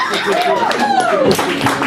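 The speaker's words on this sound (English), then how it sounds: "Please clap for Cameron Awkward Rich" At a poetry reading night, the audience claps to welcome a poet to the stage. A short burst of clapping is heard under a speaking voice that stays prominent throughout.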